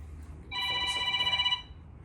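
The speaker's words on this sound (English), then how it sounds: "You got a long phone ringer there." A single long telephone ring, bright and sustained for about a second over a low background hum, rising and then cutting off cleanly.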